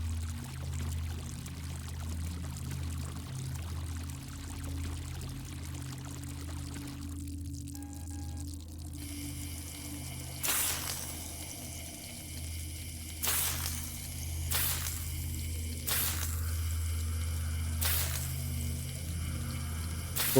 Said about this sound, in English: I just want to flush this down.